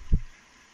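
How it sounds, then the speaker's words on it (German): A single deep, muffled heartbeat thud pulses once in the horror video game One Late Night, then fades into a quiet low hum. "No, no, der Herzschlag."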